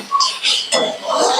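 A lid is set down over a pan of onions frying, giving a bright metallic clink and a short clatter midway through a brief burst of kitchen noise.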